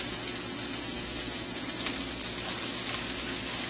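Onions frying in a pan for a red wine and sour cream chicken sauce, with flour being stirred in; a steady, close sizzle carries on without pause and no one talks.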